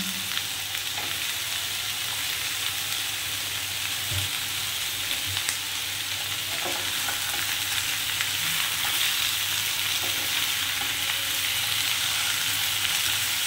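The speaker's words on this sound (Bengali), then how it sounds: "এই হালকা হাতে এবারে একটুখানি মিনিট 5 সময় ধরে চিকেনটাকে এরকমভাবেই একটু ভেজে নেবো" Chicken leg pieces frying with vegetables in a little oil for a stew give a steady, dense sizzle that holds evenly throughout, with a few faint knocks of stirring beneath it.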